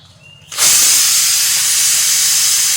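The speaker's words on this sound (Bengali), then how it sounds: "সাত থেকে আটটা সিটি পড়ে গেছে এবার আমি প্রেসার কুকারটা নামিয়ে দিচ্ছি" A pressure cooker cooking dal, after seven or eight whistles, suddenly lets out a loud, sustained hiss of escaping steam after a quiet start, continuing strongly to the end.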